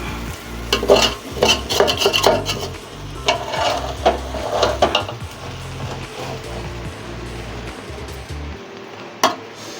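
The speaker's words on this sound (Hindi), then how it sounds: "ये देखें इस तरह से मसाला सारा ऊपर नीचे करना है ताकि पूरे चावलों के अंदर मसाला मिक्स हो जाए।" Masala is tossed through chicken tikka biryani rice in a pot with a spoon, giving close scraping and clinking strokes in uneven bursts over a soft frying hiss that fades to quiet at the end.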